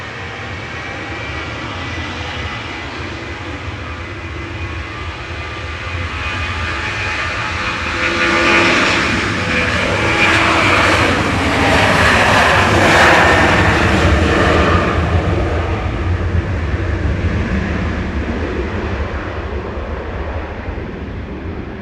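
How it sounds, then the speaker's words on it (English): A Ryanair jet airliner takes off from Manchester Airport, its engine roar building from a steady rumble into a loud, broad swell in the middle before easing slightly while staying strong to the end, with no voices. "Ryanair to Gothenburg, lined up for departure now."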